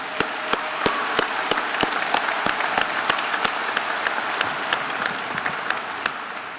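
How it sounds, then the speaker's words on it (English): A crowd applauds at a state Republican political convention, steady dense clapping with sharp individual claps popping out at a near-regular rhythm throughout. "So I think first a round of applause to everybody in this,"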